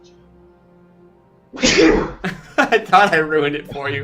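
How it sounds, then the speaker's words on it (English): A single loud sneeze bursts out close to the microphone during a gaming vodcast, followed immediately by someone talking. "I am about to sneeze."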